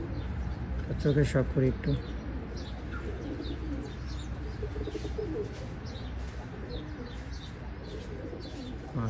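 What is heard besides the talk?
Oman Teddy pigeons cooing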